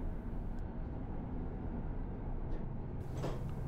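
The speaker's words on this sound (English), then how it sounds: "Door locked, we can begin." A toilet door on a Eurostar e320 train, in the accessible PRM toilet, shuts with a brief thud and the lock clicks over a steady loud rumble of the moving train.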